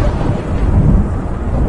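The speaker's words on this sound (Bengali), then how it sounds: "বৃষ্টি" Early-morning rain over Kolkata with a deep, continuous rumble of thunder, loud and close, filling the whole short moment.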